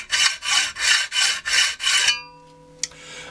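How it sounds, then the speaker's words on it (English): A hacksaw cuts through material in six even, rhythmic strokes, each loud, rasping and close by. The sawing then stops, leaving a faint ringing hum and one small clink. "if you want to cut maximum material from your job with the hacksaw"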